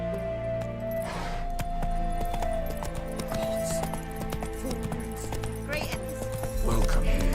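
A horse in The Witcher 3: Wild Hunt sets off, its hooves clip-clopping in a steady rhythm under ambient game music, with a brief whinny and some talk mixed in.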